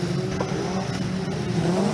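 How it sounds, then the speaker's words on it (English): Historic Formula Ford single-seater race cars revving their engines together on the grid at Cadwell Park just before a race start, a steady loud droning roar with wavering pitch and no talk. "The red lights are on, the revs have rised, and the lights go out."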